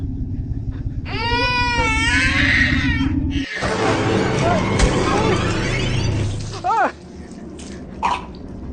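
A film character imitates a baby's crying voice with wavering, wailing sobs that turn into a long, breathy rush and then shorter cries, loud and close.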